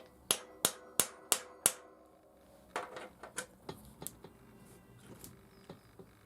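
Five sharp metallic knocks in quick even succession as a spanner tightens a bicycle's square-taper bottom bracket bearing cup, followed by softer, irregular clicks and taps of the tool and bike parts, all close and without speech.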